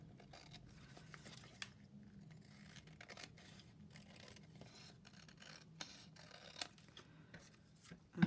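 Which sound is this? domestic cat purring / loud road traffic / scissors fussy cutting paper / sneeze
scissors fussy cutting paper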